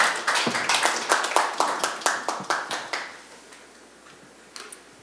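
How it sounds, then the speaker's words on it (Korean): A small audience at an ecotourism forum claps to welcome a speaker, a sparse run of distinct handclaps that fades out after about three seconds, followed by a couple of stray claps. "박수로 환영해 주시면 고맙겠습니다"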